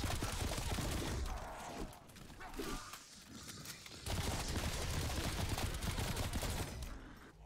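Guns firing in a zombie shooter game, dense rapid bursts of close gunshots that pause briefly around the middle and then resume as a loud sustained barrage.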